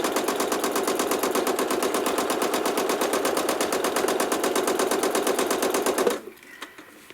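A home sewing machine stitching freehand quilted feathers, running in a fast steady rhythmic chatter for about six seconds before stopping abruptly, followed by a few faint clicks.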